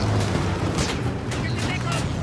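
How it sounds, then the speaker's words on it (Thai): A grenade blast in the Battlefield 1 war game sounds amid dense battlefield noise, with booming bursts and crackling gunfire layered together in a loud, unbroken barrage close by. "มันโยนระเบิดมา"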